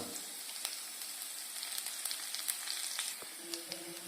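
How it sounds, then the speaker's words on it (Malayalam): Curry leaves dropped into hot oil for a Malabar chicken curry, crackling and sizzling steadily up close with frequent small sharp pops and spatters. "പിന്നീട് വേപ്പിൻ്റെ ഇല ഇട്ട് കൊടുക്കുക"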